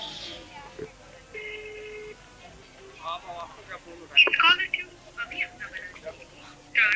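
A phone call to a town chairman rings out unanswered, a series of faint electronic ring tones heard through a handset, mixed with low background noise and a few louder clicks.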